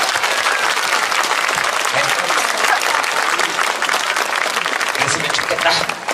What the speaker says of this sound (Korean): 그 의미에서 이 박수는 여러분들 스스로에게 치는 박수다.